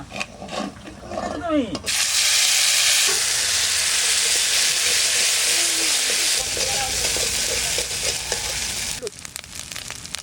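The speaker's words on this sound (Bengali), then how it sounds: "এবার রান্না করব, একবারে ফোড়ন দিয়ে চাপাই দেবো।" Cumin, coriander, dried chillies, bay leaf and ginger paste hit hot oil in a pan for tempering, bursting into a loud, sustained crackling sizzle that softens toward the end, with scattered voices and kitchen sounds around it.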